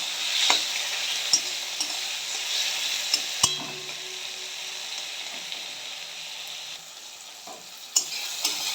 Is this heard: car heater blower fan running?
no